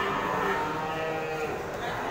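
A cow lows in a long drawn-out moo while being roped and pulled down for hoof trimming, loud and close amid farmyard background.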